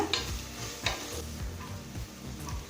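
Mixed vegetables sautéing in a pan for coconut milk rice, a steady close sizzle with repeated scraping stirs and a couple of sharp utensil knocks, no voices.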